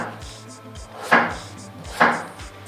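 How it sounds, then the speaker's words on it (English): A kitchen knife slicing a potato on a cutting board: two sharp, distinct chops land about a second apart, close and crisp, over a faint low hum with no talk. "Here, potato, cut one slice off, make it stable"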